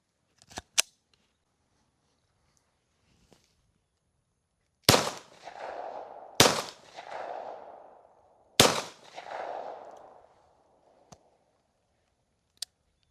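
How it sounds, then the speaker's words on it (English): Gunshots from a PSA Dagger pistol after it was dunked in pond mud: three loud, sharp reports a couple of seconds apart, each with a ringing tail, plus a few fainter clicks and snaps before and after. "we're going to shoot a couple more rounds through it and see if it clears up on its own"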